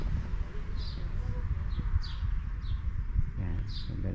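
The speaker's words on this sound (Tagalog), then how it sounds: "so very calm na lugar yung mga huni ng ibon, mga chirping birds naririnig" Birds chirp at the Al Khobar seaside corniche, a few short scattered calls over steady low wind and ambient rumble.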